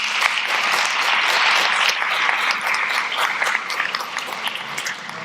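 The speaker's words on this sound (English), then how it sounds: "let's give our panelists a round of applause" An audience gives a round of applause for panelists after a safety panel on cannabis testing: a full, even clapping that swells, holds for several seconds and then slowly thins out, with no voices.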